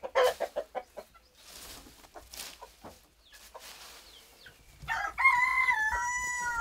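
Ornamental chickens in a church yard, fed fresh-cut grass, give a quick series of close clucks, then a loud, sustained rooster crow rings out near the end.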